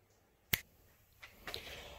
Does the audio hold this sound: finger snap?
yes